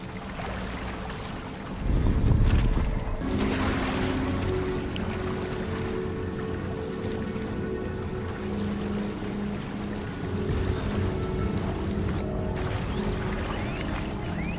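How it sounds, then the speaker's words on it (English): Bubbling water in the Hogwarts Legacy video game, heard as a steady churning, rushing water noise with a low rumble that swells after the first two seconds and continues throughout, with no voices. "Look! Where the water's bubbling. How odd."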